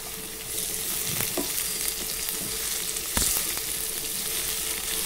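Ivy gourd (tindora) pieces fry in oil over a low flame with a steady, close crackling sizzle and a couple of brief stirring knocks.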